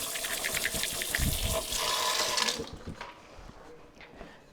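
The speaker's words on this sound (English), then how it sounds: "wash my hand" Tap water runs in a steady gush while hands are washed at a kitchen sink during salsa making, loud and continuous for a couple of seconds before cutting off, leaving quieter handling sounds.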